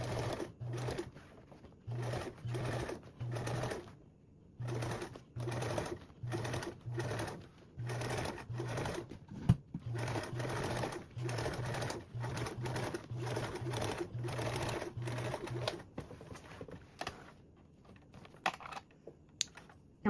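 A sewing machine stitches a row on fabric for a duffle bag in short repeated bursts, close and clear, with brief pauses between runs and faint bird cooing in the background.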